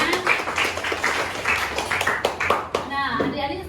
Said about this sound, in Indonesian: Tepuk tangan untuk Gina